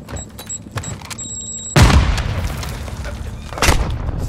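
A single loud, close gunshot boom cracks through a battle royale match with the gas closing in, followed by a sustained rumbling tail and a second, weaker burst near the end over quiet background game noise.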